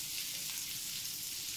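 Butter, about a tablespoon, sizzles and fries steadily in a pan as it melts for a creamy garlic butter fish fillet, a dense continuous crackling hiss heard close and alone.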